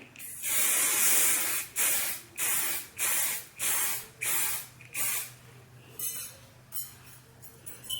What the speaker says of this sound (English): it is safe to start working the hairspray into the hair